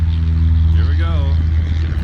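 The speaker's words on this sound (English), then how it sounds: "There's the plane taking off." A small propeller plane taking off over Milton, Ontario, heard from on board as a loud, steady engine drone with a rising whine that persists throughout.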